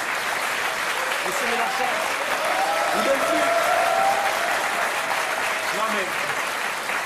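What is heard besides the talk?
studio audience applauding Mélenchon on TV talk show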